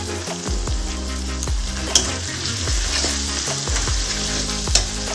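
Spices for fish head moong dal sautéing in a hot pan: a loud, steady sizzle and crackle throughout, with a spoon scraping and knocking the pan in repeated close strokes.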